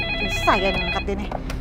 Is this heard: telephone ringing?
yes